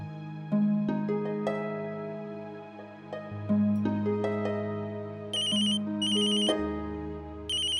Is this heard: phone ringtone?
yes